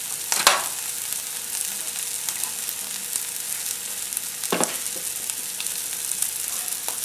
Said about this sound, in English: hashed brown potatoes cooked in a pan.